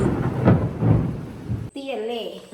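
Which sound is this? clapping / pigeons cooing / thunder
thunder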